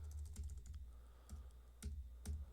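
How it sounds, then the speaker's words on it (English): Typing on a computer keyboard, quiet close clicks in irregular bursts with a few heavier key strikes standing out, no voices. "Oh, typing is letting me down today."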